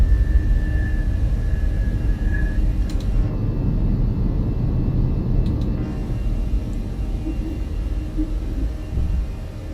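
Fenix Airbus A320 engines roar steadily at takeoff in Microsoft Flight Simulator, loud and continuous with a deep rumble and a high whine that fades slightly.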